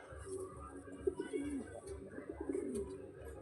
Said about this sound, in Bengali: এই যে মাদি পায়রা।